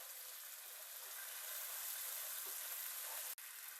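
Ground spices and water sautéing in a pan for prawn malai curry, giving a steady, faint, even sizzle and hiss that carries on without a break and with no voices.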